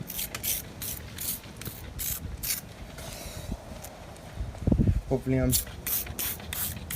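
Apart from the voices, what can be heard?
spraying wheel cleaner onto car wheel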